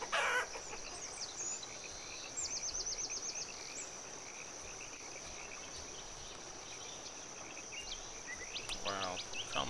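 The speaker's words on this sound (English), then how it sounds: "Come on, chickens, move it." Chickens cluck in the town-building game Banished, scattered clucks over a dense bed of crickets and frogs in a rural setting, with no talk.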